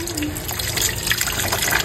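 Peeled cassava is washed by hand under running tap water, a continuous close splashing and trickling that lasts the whole moment with no speech.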